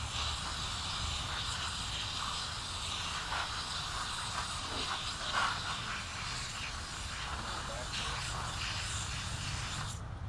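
A garden hose sprays water to rinse algae gunk off a pond filter, giving a steady, continuous hissing rush at moderate distance with no talk.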